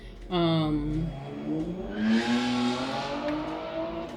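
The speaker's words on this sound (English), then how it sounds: "Okay, somebody's on a motorcycle outside." A motorcycle engine revs up and climbs in pitch outside, a rising drone that swells, dips and climbs again, moderately loud.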